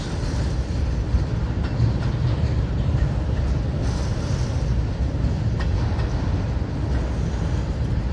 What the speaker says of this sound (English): here comes the end of the auto racks